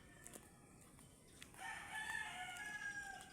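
A rooster crows once, a strained, drawn-out call at moderate distance, rising over quiet outdoor background noise.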